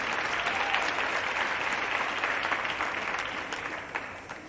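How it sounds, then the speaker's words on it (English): Festival audience at a San cultural gathering in Gobabis applauds a cultural group, a dense, steady wash of many hands clapping that fades slightly toward the end. "Please let us give them a round of applause."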